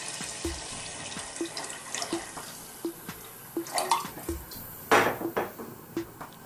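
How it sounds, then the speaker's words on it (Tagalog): Water splashes and trickles into a pot of beef for beef mami noodle soup. There are soft clinks of cookware and occasional louder splashes, but no speech. "maglalagay po tayo ng konting tubig para mapalambot yung ating"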